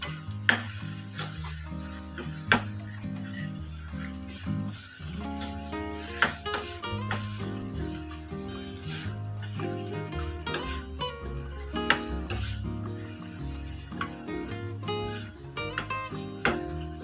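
Tinda (apple gourd) frying in oil with tomato, giving a steady sizzle with occasional stirring clinks, close and continuous, over a low hum.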